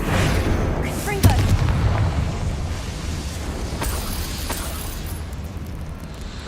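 A Confringo fire spell bursts in the game Hogwarts Legacy, a sharp blast near the start followed by a rumbling boom and fading debris, with a second thud later, under ambient game sound.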